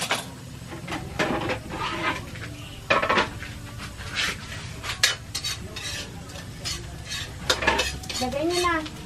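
A utensil scraping and stirring onion and ginger sautéing in a pan, oil sizzling beneath irregular metallic clinks and scrapes, close up with brief voices in the background.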